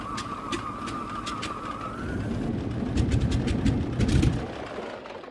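A De Havilland DHC-2 Beaver radial engine, over-primed, cranks and catches with a steady rumbling roar and a series of popping, coughing bursts, loud and close throughout with no voices.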